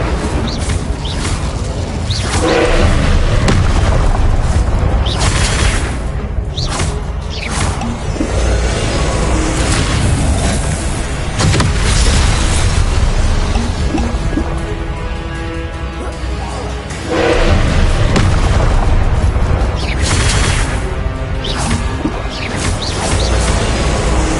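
Confringo and Incendio spell blasts from Hogwarts Legacy combat: repeated heavy booms, crashes and whooshing bursts, loud and close across a dense, continuous stretch of battle noise, with voices now and then.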